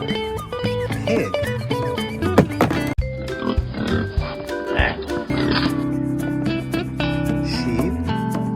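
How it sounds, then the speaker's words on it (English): Pig oinks come through during a children's toy farm-animal game, short grunting calls layered over continuous upbeat music. "Pig."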